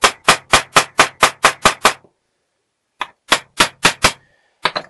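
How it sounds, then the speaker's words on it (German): Hammer strikes riveting parts of an interior door lock mechanism: a fast, even run of eight sharp metallic blows, a pause, then four more and a final knock, close and loud with nothing else heard. "Und ich verniete die dadurch wieder."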